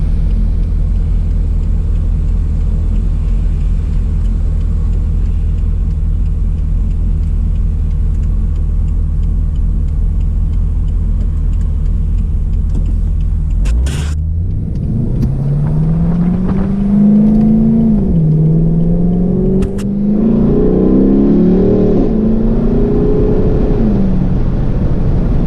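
A 2012 Chevrolet Caprice PPV police car pulls away in first gear, its steady idle rumble giving way to a rising engine roar as it accelerates hard, loud and close from inside the cabin.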